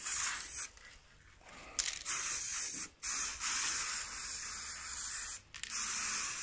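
Bursts of spray paint from an aerosol can coating a homemade turbine red, a loud steady hiss broken by short pauses between passes.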